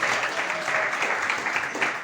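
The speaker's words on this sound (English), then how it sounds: "a round of applause for him" At an awards presentation, an audience bursts into steady, fairly loud applause, a dense continuous clapping that holds for about two seconds.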